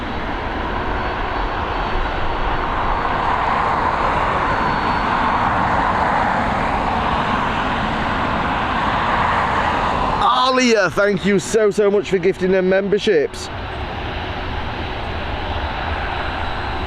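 A steady, loud propeller-engine drone fills the air as an aircraft powers up at Dublin Airport, with a person speaking over it partway through.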